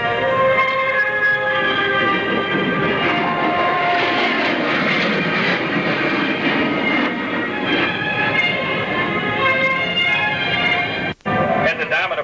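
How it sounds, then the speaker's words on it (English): A USAF Thunderbirds jet performing a low 4-point roll at the 1986 Texas Air Expo in Waco gives a loud, sustained engine roar with a harmonic whine, steady throughout, with a commentator speaking over it. "Low and to your right, Captain Weiler executes the 4-point roll"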